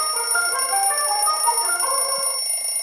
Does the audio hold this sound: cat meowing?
no